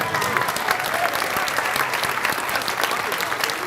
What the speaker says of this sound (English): So a big round of applause for everyone.